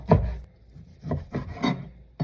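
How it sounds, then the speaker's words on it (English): A knife slices through steak into strips on a board, giving a few soft, close rasping strokes with short gaps between them. "I'm gonna cut these into strips about like that"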